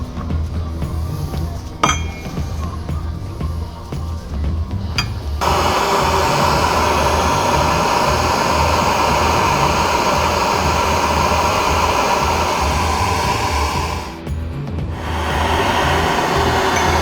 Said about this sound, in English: we use the torch to break the Loctite